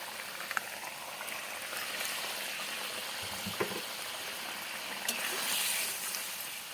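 Lote fish curry bubbles gently in a pan, a soft continuous simmering hiss with a few small pops and clinks of a utensil, close and quiet.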